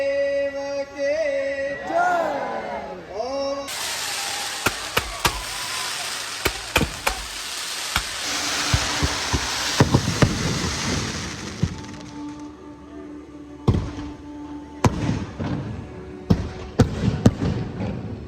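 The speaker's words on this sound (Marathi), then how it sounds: "तर मित्रांनो जे आता फटाके वाजले" Firecrackers go off during a Ganga aarti at a Mahashivratri festival, sounding as a dense crackling burst followed by scattered sharp pops and thuds. The crowd noise is close and a voice can be heard before the bangs begin.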